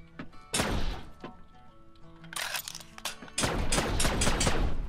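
Nail gun firing in the video game Cargo Commander: several loud, sharp bursts of rapid impacts, one near the start, then a cluster, then a dense run of repeated shots near the end, with no talk.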